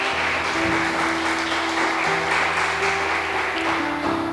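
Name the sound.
church congregation applauding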